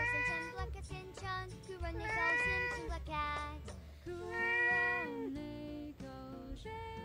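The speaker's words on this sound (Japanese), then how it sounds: "黒猫しんちゃん" A rescued black cat indoors gives a run of drawn-out, melodic meows one after another, close and clear, with brief pauses between calls.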